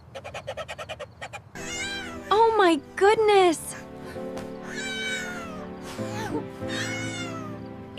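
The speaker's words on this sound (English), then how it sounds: "It's a kitten!" A tiny kitten meows repeatedly, several loud rising-and-falling cries close by, with people talking around it and a dog's earlier sounds at the start.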